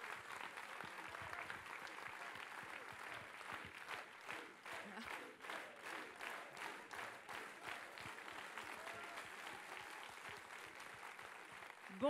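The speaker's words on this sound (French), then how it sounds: "Vous pouvez l'applaudir très fort." Steady applause from an audience at a public meeting in Vendée, many hands clapping in a dense, even patter that holds for about twelve seconds at moderate distance.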